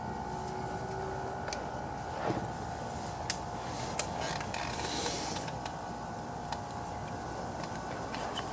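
Creaking, clunking mechanical sounds come from the shift lever of a 1999 Yamaha Bear Tracker ATV being pulled while it is stuck, with scattered sharp clicks and knocks over a steady background hum.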